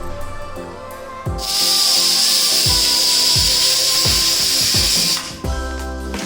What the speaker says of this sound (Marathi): कुकरच्या 2 शिट्ट्या घ्यायच्या